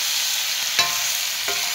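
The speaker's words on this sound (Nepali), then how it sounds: "कुखुराको मासु भुट्दैछु साथीहरू है।" Chicken meat stir-frying in a pan, with a steady loud sizzle and two sharp stirring scrapes of a utensil, close and without speech.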